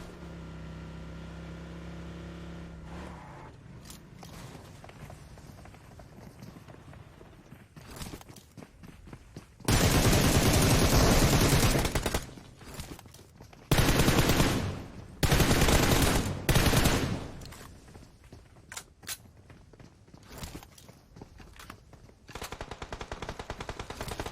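Gunfire in the PUBG Mobile battle royale game, with loud bursts of rapid automatic fire in several separate volleys, set among quieter footsteps and movement sounds.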